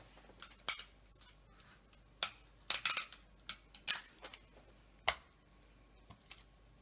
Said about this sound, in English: I need to put a bit of tape on here